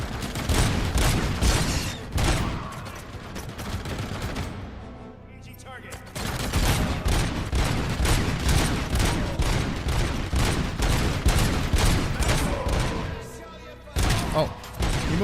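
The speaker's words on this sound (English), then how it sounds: "But this guy's got like a machine gun." Video game combat with a machine gun firing in long, dense rattling bursts, loud and nearly continuous, with a brief lull in the middle and short gaps near the end; other thumps and booms are mixed in.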